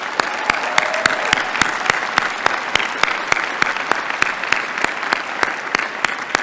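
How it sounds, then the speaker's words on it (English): A hall full of people clapping at a UC Berkeley College of Chemistry commencement ceremony, dense steady applause sustained throughout with no voices over it. "Please give Audrey a round of applause."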